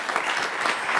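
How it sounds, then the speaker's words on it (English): An audience at a startup competition applauds a presenter, a short burst of dense, lively clapping that stays loud and even for the whole second. "Very cool. Big applause for Ivan."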